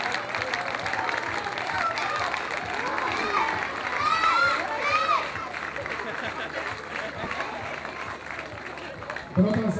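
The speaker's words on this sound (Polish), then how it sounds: "gorące brawa dla tej dziewczyny" A crowd in a town market square celebrates a Polish champion women's basketball player with applause, cheering and shouts, a dense roar rising in the middle and people talking throughout.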